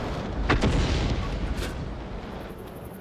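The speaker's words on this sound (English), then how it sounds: "I heard some shots" Heavy tank cannon fire in World of Tanks, a loud booming blast near the start followed by a second softer report and a rumbling tail, with no talk over it.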